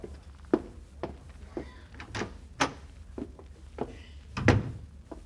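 A door in a 1940s radio comedy set in a doctor's examination office opens and closes, with several light thunks and knocks spread across the clip and a louder bump near the end.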